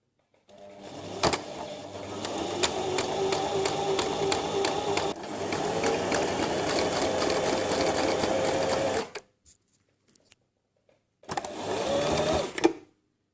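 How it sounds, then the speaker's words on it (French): A sewing machine stitches elastic onto fabric, running in a steady whirring buzz for about nine seconds, stopping, then starting again for a shorter burst. "je mets ma machine en route"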